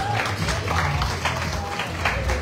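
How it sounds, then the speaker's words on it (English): Steady applause from an audience at a Coffee Bean & Tea Leaf anniversary event fills the clip, a dense wash of clapping with some murmuring voices mixed underneath. "a warm round of applause"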